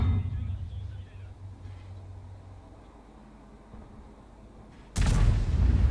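Tank guns firing premium and HE shells in a tank battle video game: a low rumbling drone fades through the middle, then one loud sudden blast near the end is followed by a sustained roar.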